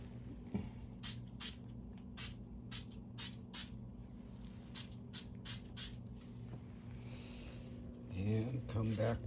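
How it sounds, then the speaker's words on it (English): Spray glue hisses from an aerosol can onto straw strands in short repeated bursts, about a dozen sharp close spritzes with gaps between, over a low background hum. "Now, go back to our spray glue."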